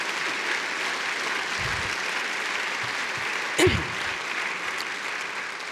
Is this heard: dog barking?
no